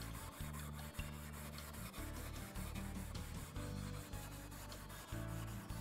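Small sponge rubbed back and forth on painted wood, a steady rhythmic scrubbing of regular close strokes, faint and continuous with no talk.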